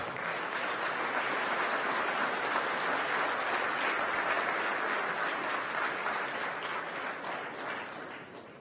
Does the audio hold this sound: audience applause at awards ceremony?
yes